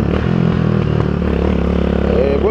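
Vento Nitrox 250cc motorcycle engine running close and loud, a steady buzzing drone with light clattery, scraping texture and a slight rise in revs near the end.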